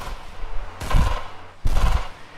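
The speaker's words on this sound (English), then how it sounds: "With all those shots I just fired off, I was surprised I did not hit him even once." Video game gunfire comes in two loud, close bursts of rapid shots separated by a short pause, with a low hum of game ambience between them and no speech.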